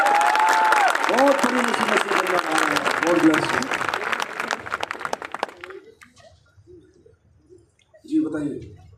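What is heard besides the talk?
applause for a cured patient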